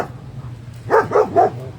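A dog lets out three loud, close barks in quick succession after a quiet moment.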